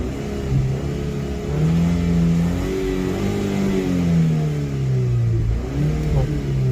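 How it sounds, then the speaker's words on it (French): A second-generation Audi TT engine with a stock exhaust revs up loud and close, pitch rising and falling through several gear changes, steady and throaty with no talking. "Et puis quand on accélère, en fait dans les premiers rapports, elle marche plutôt bien."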